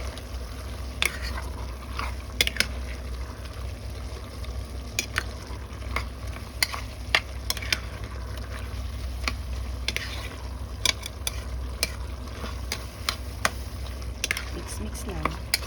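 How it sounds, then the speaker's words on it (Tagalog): A menudo mixture with milk and liver is stirred in a sizzling pan, giving a continuous frying hiss broken by repeated sharp scraping clicks of a utensil against the pan. "Mix it all together."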